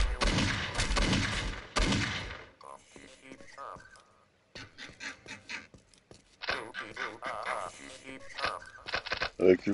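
Gunfire in the game Postal 2 Paradise Lost, a few bursts of shots separated by gaps, with someone speaking over the action.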